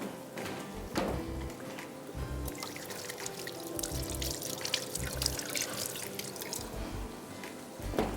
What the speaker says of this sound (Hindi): चलें जी, हाथ धो लेते हैं पहले।